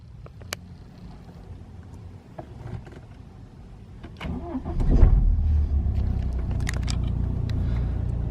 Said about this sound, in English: I'm actually going to fire the engine up because obviously the engine has to be running